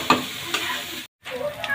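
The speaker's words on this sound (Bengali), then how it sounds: "হালকা একটু নেড়ে চেড়ে নিচ্ছি।" Fried potatoes for aloo dum get stirred in a pan with spices, a close sizzling, frying hiss with scraping stirs, briefly dropping out before resuming.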